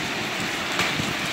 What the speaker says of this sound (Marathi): गारांसह पाऊस आहे